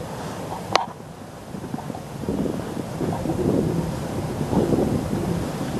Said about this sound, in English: There's a little bit of wind just happening.